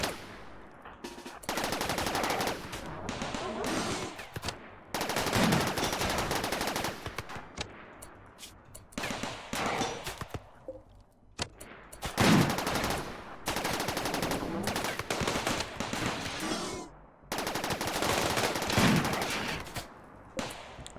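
Turrets firing in a RimWorld colony defense, with repeated loud bursts of rapid automatic gunfire separated by brief pauses and running on and off throughout.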